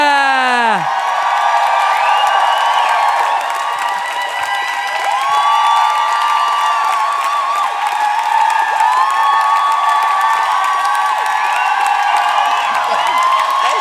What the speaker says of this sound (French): une bonne main d'applaudissement pour Mona de Grenoble!